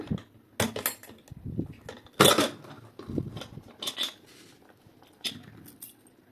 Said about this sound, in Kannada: ಕುಕ್ಕರ್ ವಿಷಲ್ ಹೋಗಿ ತಣ್ಣಗಾಗಿದೆ ಇವಾಗ ಓಪನ್ ಮಾಡೋಣ